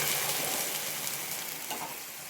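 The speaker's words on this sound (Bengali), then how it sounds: "সবজি কষানো হয়ে গেছে, এবার গরম জল দিয়ে দিচ্ছি" Hot water hits a pan of spiced fried vegetables, cooking a water chestnut dish, giving a loud, continuous hiss and sizzle that tapers slightly over a couple of seconds.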